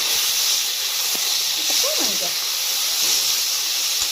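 Jackfruit seeds frying in plain oil in a wok without salt or turmeric, a steady close hiss and sizzle running throughout while a voice talks briefly over it.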